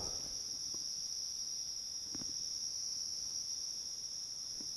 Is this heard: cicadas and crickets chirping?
yes